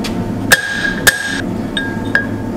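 Hammer blows on hot iron while forging nails at a blacksmith's anvil, four sharp ringing strikes spaced unevenly, the first two loud with a sustained metallic ring and the later two lighter.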